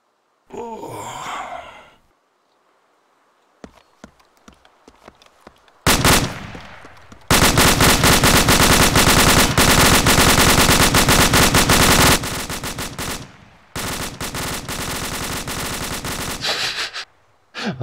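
Sustained automatic machine gun fire in ArmA 2, loud dense bursts with brief gaps, preceded by a short breathy vocal sound and scattered shots.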